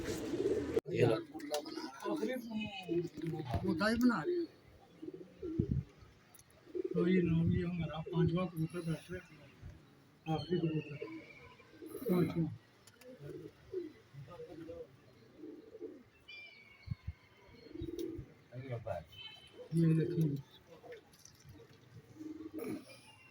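Pigeons coo on a rooftop in Lahore, soft repeated throaty calls close by, mixed in with frequent overlapping speech and occasional faint chirps.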